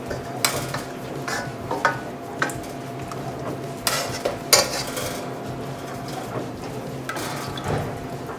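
Chicken pieces go into a baking tray for oven tandır, with repeated clinks and scrapes of metal and utensils against the tray over a low background sizzle, irregular and close.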